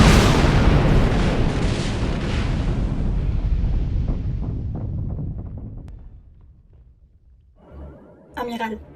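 A big, loud rumbling blast of space-station mines going off as an audio-drama effect, the roar slowly fading over several seconds before a brief, sharper burst near the end.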